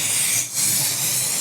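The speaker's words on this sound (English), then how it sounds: "When you're spraying a complicated part like this, you wanna make sure you spray it from multiple directions" POR-15 detail spray paint hisses steadily from an aerosol can onto a valve cover, a close continuous spray with one brief pause partway through.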